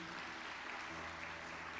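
Church congregation applauding during a Portuguese-language evening service, a steady wash of clapping held for the full two seconds, moderately loud and close, with a faint low tone sustained underneath.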